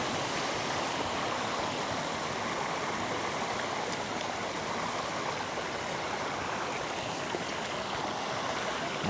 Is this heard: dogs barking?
no